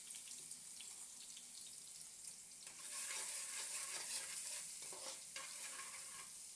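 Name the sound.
crushed garlic frying in hot oil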